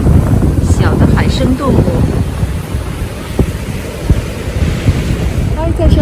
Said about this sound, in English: Yeah, it's Beautiful windy, day.